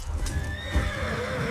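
A horse neighs with a shrill, wavering whinny over a rumbling dramatic background, with the soft clip-clop of hooves beneath, in a historical scene of conquistadors on horseback.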